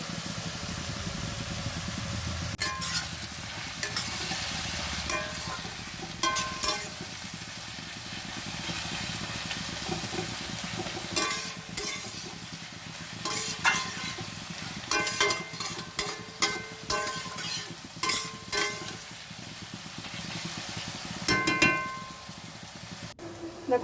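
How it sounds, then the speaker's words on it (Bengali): Onions frying in a pan with turmeric and salt give a steady, moderately loud sizzling hiss near the mic, broken by repeated clatters of stirring, busier in the second half. "দেখো পেঁয়াজটা ভাজা হয়ে গেছে।"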